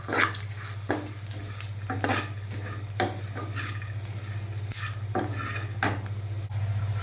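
Flattened rice and peanuts fry in a little hot oil, a steady sizzle under repeated scraping stirs, the spatula strokes coming roughly every second, close and fairly loud.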